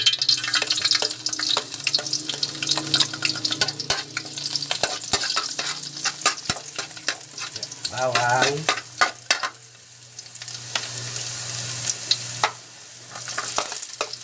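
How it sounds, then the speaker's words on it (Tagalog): Garlic sautéing in a pan for Kapampangan-style pork caldereta, a close steady sizzle broken by sharp spatula scrapes and stirring clatter, with a low hum underneath and a brief quieter stretch midway. "Guys, magigisa na tayo."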